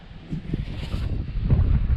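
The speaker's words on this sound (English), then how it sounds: "Man, it's windy." Outdoor wind buffeting a microphone during a metal-detecting dig, a steady low rumbling roar that swells and gusts louder toward the end, with no one talking.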